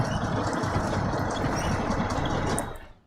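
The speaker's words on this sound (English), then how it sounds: "I've actually got a broken engine sound" A broken truck engine idles in the off-road driving game SnowRunner, a loud, rough, steady rumble that runs alone for about three seconds and then fades out.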